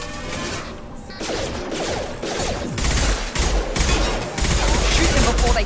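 Rapid gunfire and bursts of automatic weapons in a Mass Effect 2 firefight against security mechs, dense and continuous, with electronic effects and voices talking over the shooting.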